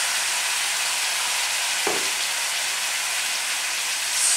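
Mutton frying in a kadhai with onions, tomatoes and salt gives a steady, loud broadband sizzle throughout, with a brief stir or clink near the middle and no talking.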